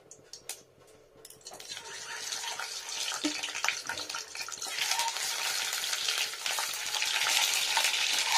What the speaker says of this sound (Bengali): এবার দিয়ে নেবো সর্ষের তেল